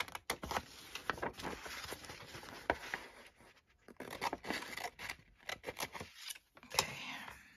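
Scissors snip through paper for a junk journal, making a series of close, irregular crisp cuts and rustles with brief pauses.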